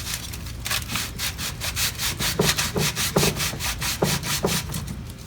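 Sandpaper doubled up and wrapped around a file sands a corner of a homemade black walnut electric guitar, making steady rhythmic back-and-forth rasping strokes, close and fairly loud, with no talking.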